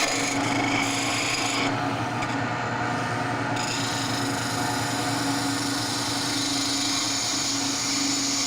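Woodturning gouge riding its bevel as it cuts a spinning wood blank on a lathe: a steady, continuous rasping scrape over the lathe motor's low hum, close and even throughout with no talk.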